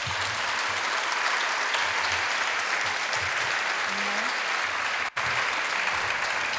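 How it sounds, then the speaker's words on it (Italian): An audience applauds to welcome Pilar Del Rio at an event remembering José Saramago, sustained even clapping from a seated crowd heard from within the room, with a brief dropout near the end. "e che saluterei con un applauso"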